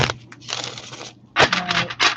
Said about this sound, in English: let's do one more shuffle for Aquarius